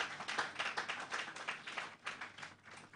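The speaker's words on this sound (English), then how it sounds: "Please give another round of applause." Quiet, scattered clapping from a modest audience at an evening conversation and iftar event, distant and uneven, lasting a few seconds with no talking over it.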